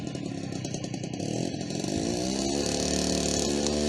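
Small garden tiller engine running while plowing soil, a buzzing two-stroke drone that revs up and settles into a steady, loud, close roar.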